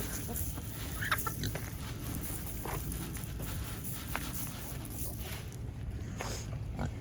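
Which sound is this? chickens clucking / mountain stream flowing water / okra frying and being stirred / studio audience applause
chickens clucking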